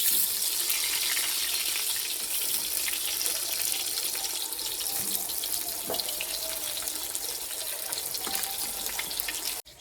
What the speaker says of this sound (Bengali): এবার বেগুনগুলো সব এক এক করে ভেজে নেব তো যে তেল ছিল আমি সেই তেলের মধ্যেই বেগুনগুলো দিয়ে দিচ্ছি